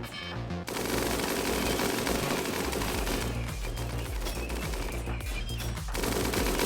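Mega turrets in RimWorld fire loud, dense bursts of automatic gunfire that run almost without a break, with the volleys rising and falling in intensity. No one speaks.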